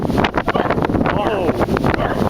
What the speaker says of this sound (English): Damn, you hear that wind?